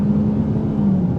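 A 2022 Toyota Corolla XSE Apex Edition engine revving during a launch, a loud, steady low drone held briefly without speech.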